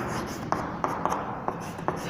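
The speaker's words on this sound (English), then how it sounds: "If I write here" Marker or chalk strokes on a board during a lesson, a handful of short scratchy taps spaced irregularly over a steady room hum, fairly close and faint, with no talking.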